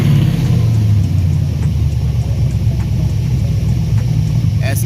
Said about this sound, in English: As you can hear with the pipes through the exhaust, it's responsive.